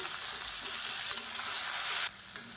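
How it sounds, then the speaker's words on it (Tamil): Tomato, onion, ginger and garlic sauté in hot oil for an oil-brinjal kuzhambu, giving a steady, close sizzle with a few scraping stirs and a brief louder flare near the end. "இப்போ பாருங்கள், தக்காளி வெங்காயம் நல்லா வதங்கிடுச்சு"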